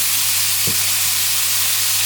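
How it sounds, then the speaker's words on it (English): Kebab meat fries in a pan with a steady, loud sizzle and hiss, and a single brief knock stands out partway through. "place starter ones on the side, let it cook a bit more,"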